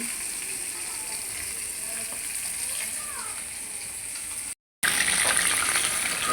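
Marinated fish frying in hot oil, a steady, dense crackling sizzle that continues throughout at close range, broken by a brief gap near the end before the sizzle resumes slightly louder.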